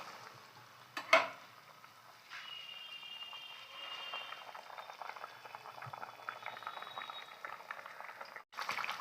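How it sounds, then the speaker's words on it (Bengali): Water simmering in a pan for a Bengali steamed egg dish with green chilli, a steady bubbling hiss with a sharp knock early on, running close and continuous throughout with no talk. "এটাকে আমি ফুটতে বসে দিলাম যতক্ষণ না জলটা পরিমাণ মতন আসে"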